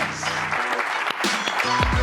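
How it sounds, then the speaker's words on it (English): An audience at a tech hackathon talk applauds at the end of a presentation, a short, moderately loud patter of clapping with voices and other sounds mixed in and over it. "How about a round of applause?"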